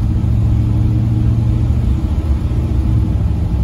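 A 1968 GMC truck's engine pulls steadily and loudly up close, a continuous low rumble as it accelerates through the gears with no break or voices.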